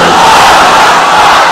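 A large crowd at an Islamic religious gathering roars Allahu Akbar in unison in answer to a takbir call, a loud, dense, sustained mass chant with no single voice standing out.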